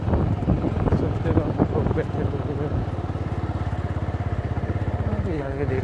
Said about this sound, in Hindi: देखते हैं बाइक कहाँ तक जाती है